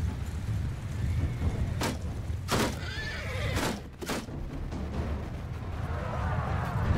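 Several loud horse whinnies ring out in a Bannerlord battle, strident bursts spaced over a few seconds above a rumbling background of hooves and clatter.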